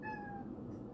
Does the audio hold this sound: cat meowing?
yes